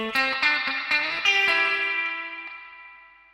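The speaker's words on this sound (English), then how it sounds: "And the reverb, pretty simple, just giving the feeling that you are in an ambient." An electric guitar played through a reverb effect pedal picks out a few quick notes, then lets a final chord ring into a long, spacious tail that fades slowly, with no talk.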